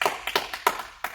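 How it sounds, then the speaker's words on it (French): A small group claps briefly for themselves after a children's activity, a few quick, close, sharp claps spaced unevenly over about a second. "je pense qu'on peut s'applaudir tous très très fort"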